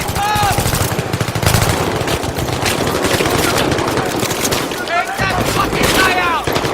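Rapid automatic gunfire crackles through a Battlefield 3 firefight, dense bursts running almost continuously with sharp whizzing ricochets and a murmur of voices underneath.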